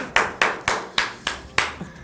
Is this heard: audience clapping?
yes